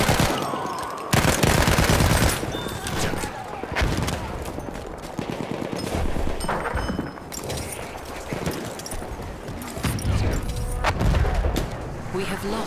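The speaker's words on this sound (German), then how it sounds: "Ein Maschinengewehr!" Machine gun fire in the video game Battlefield 1 rattles in dense, rapid bursts amid heavy battlefield gunfire and booms, loud and continuous throughout, with voices shouting over the combat.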